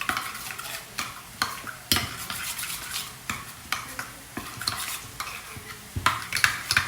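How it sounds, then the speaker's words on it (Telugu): Masala being stirred into yogurt with a spoon until smooth, a rhythmic series of scraping, clinking strokes against the bowl over a faint hiss, close and steady, no talk. "ఇవి రెండింటిని ఇలా మిక్స్ చేసేసుకోవాలి. పెరుగులో అసలు ఏమీ ఉండలు లేకుండా బాగా మిక్స్ చేసేసుకోవాలి"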